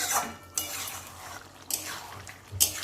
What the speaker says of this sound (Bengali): গরম মশলা দিয়ে দিলাম, একটু নাড়াচাড়া করে নিচ্ছি